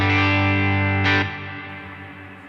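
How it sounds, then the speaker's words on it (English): A distorted, effected guitar chord through a Line 6 HX Stomp Double Tank reverb rings out with a shimmering, wobbling reverb, then decays into a long modulated tail. "let's drag in our reverb stereo double tank. Let's hear what it sounds like right out of the box."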